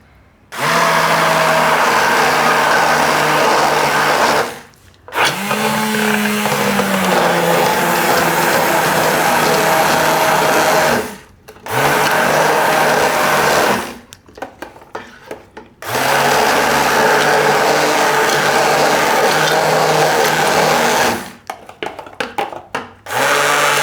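Blender whirring through a mint lassi of yogurt and fresh mint, run in four loud bursts of several seconds each separated by short pauses, with a pitch shift at one start-up.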